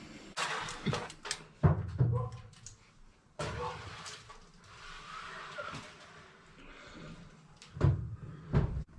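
A home kitchen oven door opens, and a steak goes inside amid a series of sharp clunks, knocks and metallic clatters, spaced irregularly with quiet handling noises between them.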